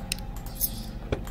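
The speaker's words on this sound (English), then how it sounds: "It's locked. Ah, keys." A few short metallic jingles of a bunch of keys being picked up in a horror video game, close and sharp over a faint low background hum.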